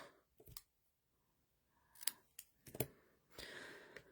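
Scissors snip through paper for a pop-up card craft, giving a few crisp, close cuts in quick succession, with one light rustle between them.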